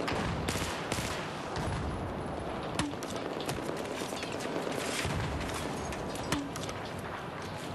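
Dense gunfire from a Battlefield 4 multiplayer match, with overlapping bursts and scattered sharper shots over continuous battle noise at a steady, fairly loud level throughout, no talk.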